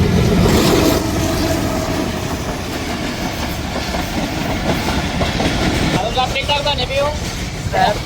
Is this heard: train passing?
yes